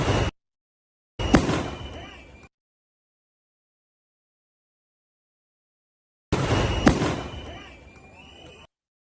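Fireworks set off at a street gathering in Minnesota burst in a few sharp bangs and crackles, heard in separate short bursts with silent gaps between, amid background voices.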